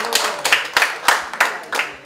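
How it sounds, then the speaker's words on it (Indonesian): A press conference audience gives a short, sparse burst of clapping, a handful of individual claps landing in an uneven rhythm over about two seconds, close and moderately loud with no talking. "Tepuk tangan sekali untuk Farhan ya"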